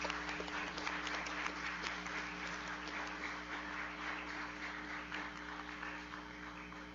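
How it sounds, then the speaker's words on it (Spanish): A hall audience at a tribute event for José Agustín applauds steadily for several seconds, a dense, even wash of clapping that holds its level throughout. "Un aplauso para José Agustín"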